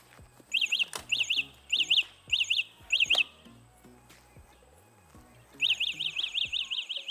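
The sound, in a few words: Wing Freedom ST eBike anti-theft alarm going off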